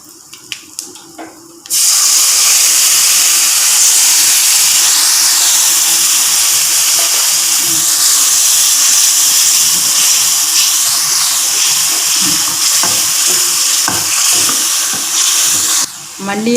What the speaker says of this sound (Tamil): புளி தண்ணியை ஊற்றுறேன்.